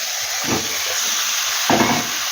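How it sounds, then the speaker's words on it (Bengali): Chicken pieces hit a hot pan with crushed coriander and set off a steady broadband sizzle. Two brief scraping bursts from stirring stand out. No one speaks. "এবার আমি চিকেনটা দিয়ে দেবো"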